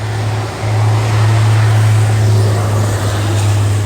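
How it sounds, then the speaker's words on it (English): Steady road traffic passes beside a garden during a cleanup, a continuous low rumble of cars and vehicles that holds at a constant level with no talking. "Sorry about the traffic"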